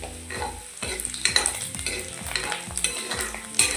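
Cumin seeds crackle and fry in a hot pan while a utensil stirs and scrapes in quick repeated strokes, close and busy with no talking.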